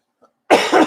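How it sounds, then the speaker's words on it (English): A person coughs once sharply and loudly, in a quick pair of bursts after a near-silent pause, during a live question-and-answer session with an employment attorney. "I'm so sorry about the coughing"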